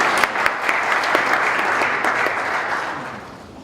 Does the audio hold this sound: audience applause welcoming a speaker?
yes